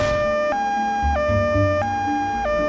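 An ambulance siren wailing in a loud two-tone hi-lo pattern, alternating about every half second, close and clear with low rumble beneath.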